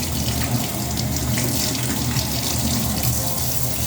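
Small stove parts being scrubbed by hand under a running kitchen tap, a steady close rush of water splashing into the sink that holds unbroken for the whole stretch, with no talk.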